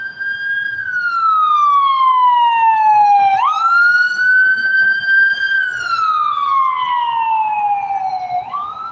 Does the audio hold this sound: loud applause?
no